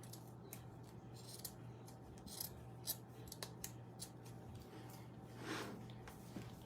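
Scissors snipping through material while making a farmhouse-style craft, a run of quiet, close blade cuts and rubbing over a steady low hum, with no voices.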